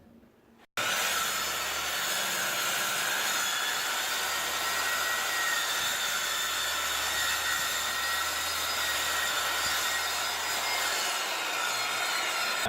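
Circular saw running along a homemade track guide through wood, a loud continuous whining cut that starts abruptly and holds steady for several seconds, with no speech.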